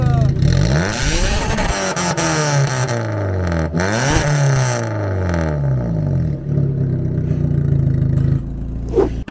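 A Peugeot 206 with a TU5 JP4 engine revs hard and loud with its exhaust valve open, pitch sweeping up and down through several throttle blips, close to the listener.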